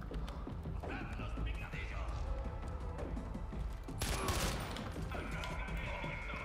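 Gunfire in Far Cry 4 mixed with game sounds and someone talking, with a sharp, loud burst of shots around the middle of the clip and scattered quieter reports around it.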